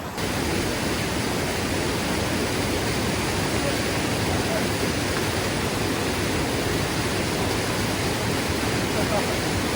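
Steady, loud rushing water of a Colorado wilderness stream fills the whole stretch, a continuous broadband wash like a fast stream or small falls close by, with no break in it.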